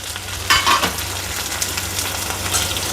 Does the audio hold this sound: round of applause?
no